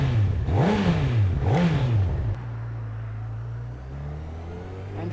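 A Honda CB1000R naked motorcycle with a litre-class engine revs twice in quick rising swoops, then settles into a steady, lower drone as it pulls away, loud and close with no talking.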